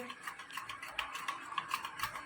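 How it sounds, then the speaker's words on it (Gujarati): Khaman batter being whisked in a bowl, a quick, steady run of scraping, swishing strokes close by with light clinks against the side. "તમે ગોળ ગોળ ફેરવીને બેટર ફેટશો"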